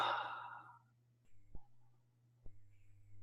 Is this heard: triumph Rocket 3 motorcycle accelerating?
no